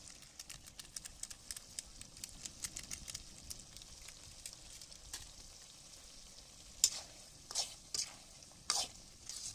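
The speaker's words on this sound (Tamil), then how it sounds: "தனியாத்தூள் ஆட் பண்ணிட்டு ஸோ நல்லா மிக்ஸ் பண்ணிகிட்டே இருப்போம்." Coriander powder stirred into chicken gravy frying in a pan outdoors in a village, a faint low sizzle under a run of soft scraping ladle strokes, with a few louder scrapes toward the end.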